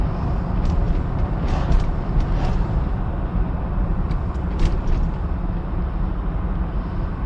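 A car driving into Truro, Nova Scotia on a June afternoon, with continuous road and engine rumble heard from the cabin and faint intermittent higher noises over the steady drone.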